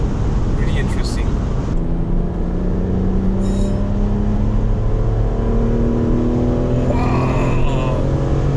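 A BMW 430i with a four-cylinder turbo engine accelerating on the road, a steady loud engine drone with rising tones as it shifts through gears, heard from inside the car under occasional talk.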